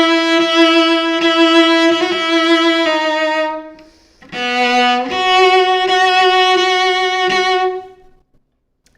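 Cello bowed starting with an up bow from the tip, a run of sustained notes with clear bow changes, a short break, then another phrase of held notes ending in silence.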